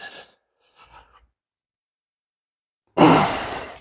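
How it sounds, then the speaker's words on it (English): Heavy, effortful breathing from a person doing a core Pilates workout, with faint breaths early on, then a loud, close, sustained exhale near the end. "Sorry for my heavy breathing, but it is hard work."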